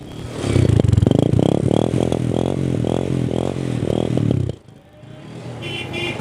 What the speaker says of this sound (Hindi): जरा इसका साउंड भी तो सुने। मॉडल 2010 है, यामाहा 4 स्ट्रोक।